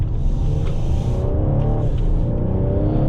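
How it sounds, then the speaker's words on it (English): A 2022 Ford Explorer ST's engine revs and pulls strongly, a deep steady rumble climbing in pitch as it accelerates, close and loud. "the engine just, you know, I'm not even flooring it, and this thing just gets up and goes"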